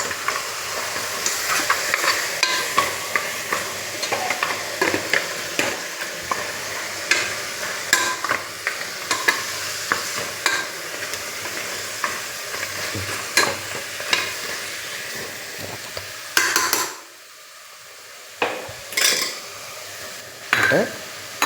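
A ground paste of cumin, fennel, turmeric and coriander powder being stirred in a frying pan, giving a steady sizzle with repeated spatula scrapes and clinks against the pan, briefly dropping out near the end before resuming.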